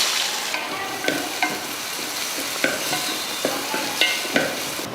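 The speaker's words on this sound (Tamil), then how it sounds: "பொரிஞ்சதும் கொஞ்சம் கருவேப்பிலை சேர்த்துட்டு இது கூட ஒரு 3 பெரிய வெங்காயம் சேர்த்துடலாம்." Onions fry in hot oil with cloves, cardamom, cinnamon and curry leaves, giving a loud, continuous sizzle broken by regular scraping stirs of a spoon in the pan, with no talking.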